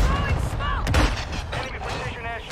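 Mortar strike in the video game Warzone, loud blasts and gunfire crackling over a dense battle mix, with a sharp burst near the middle, mixed with voices.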